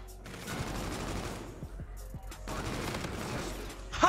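Rapid bursts of video game gunfire crackle in quick succession, with a couple of sharper single shots standing out near the middle, moderately loud and continuous.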